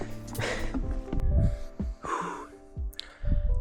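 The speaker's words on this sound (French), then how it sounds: "Il commence à être essoufflé." Heavy, out-of-breath gasping and snorting breaths from a hiker on a hot day, close to the microphone, coming in uneven bursts with short pauses.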